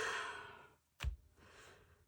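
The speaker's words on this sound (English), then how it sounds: "Sorry, I have to yawn." A single person yawns, a long breathy exhale that fades out, followed by a short sharp breath or mouth sound and a softer trailing breath.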